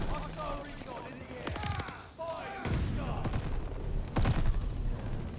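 SMG fire in a shooter video game rattles out in rapid bursts and heavy thumps, dense and close, with a voice speaking over parts of it.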